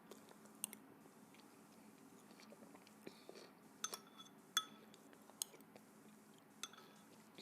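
Close, quiet chewing of tofu soup, soft wet mouth sounds broken by occasional crisp clicks and clinks of utensils against a bowl, with no talking.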